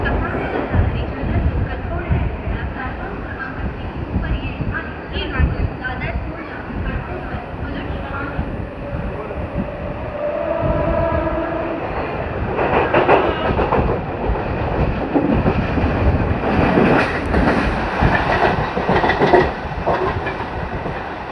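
A Mumbai 15-car local train travels from Chhatrapati Shivaji Maharaj Terminus toward Thane, heard from inside as a loud, continuous rumble with rhythmic wheel clatter that swells in the second half.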